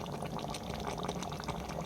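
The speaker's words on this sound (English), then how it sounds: "I am adding water in this" Preheated water mixed with curd is poured into chicken curry in a pan, a steady close splashing and gurgling stream lasting a couple of seconds, fairly faint.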